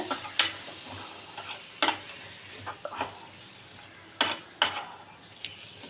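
Salted mango pieces for kadumanga pickle being sautéed in a pan: a low sizzle under repeated sharp clacks of a spoon against the pan, spaced irregularly every second or so, close and without voices.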